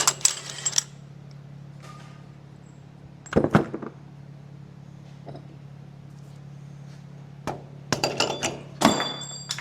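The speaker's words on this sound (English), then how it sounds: "We got to take the nut off and air hammer this thing out of the housing" An air hammer drives the pinion out of a rear differential housing in short bursts of sharp metallic hammering and clinks, with a couple of rapid rattling bursts near the end over a steady shop hum.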